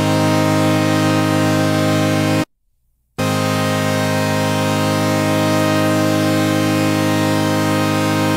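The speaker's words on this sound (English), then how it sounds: "When you hear sounds like this, you tend to think, ah, oh, that can't be an analog synth" Roland Juno analog synthesizer playing a bright, digital-sounding patch, a dense sustained chord held loudly, cut off briefly by a short silence, then resuming and holding steady.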